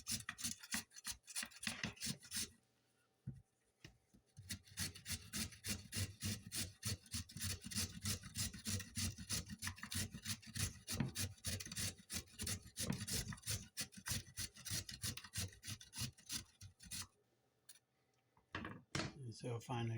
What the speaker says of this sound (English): now we're going to grate our carrot. I've got an old grater that I use.